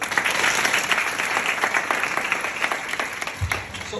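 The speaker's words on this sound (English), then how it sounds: "Can give a clap." Audience members at a talk on human resources give a round of applause, a continuous patter of many hands at moderate volume that thins slightly toward the end.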